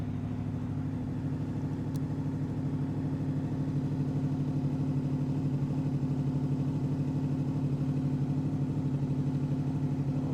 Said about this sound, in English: So as you can hear it now, the RPMs are dropping.